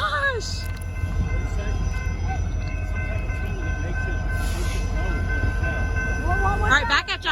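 A freight train passing a road crossing at S 33rd W Ave in Tulsa, Oklahoma, giving a loud, steady rumble and clatter of rail cars close by, with a horn near the end and people talking over it.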